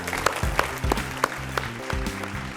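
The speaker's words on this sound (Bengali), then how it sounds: "অভিনবর জন্য একটা জোরে হাততালি হোক, জোরে।" Audience clapping for a child contestant on a Bengali TV quiz show stage, moderate applause with distinct claps under background music.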